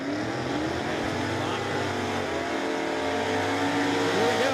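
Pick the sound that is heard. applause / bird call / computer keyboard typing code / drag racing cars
drag racing cars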